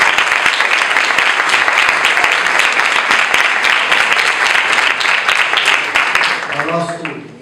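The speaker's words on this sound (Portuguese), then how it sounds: "Queria pedir uma salva de palmas para ele" Audience applause at a Mackenzie Presbyterian University student-chapter debate, steady dense clapping filling the room for about seven seconds before tapering off as a voice begins over it.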